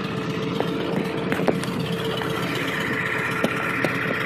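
A 2002 Ford F250 pickup with the 7.3 Powerstroke diesel running at high idle after a cold start, a steady, fairly loud engine drone with a few faint clicks and knocks and no talk.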